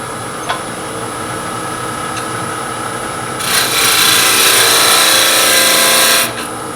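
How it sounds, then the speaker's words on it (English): Lathe wood turning with a shallow fluted gouge on a small Christmas ornament, hollowing the back side: a steady, close scraping and rubbing cut that grows much louder and denser midway, holding for several seconds before easing off. "we're going to go to our shallow fluted gouge"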